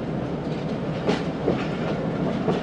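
A train rumbles across the Ayub Bridge at Sukkur, heard from on board as a steady heavy roar with faint rhythmic clatter of wheels over the track, continuous and fairly loud.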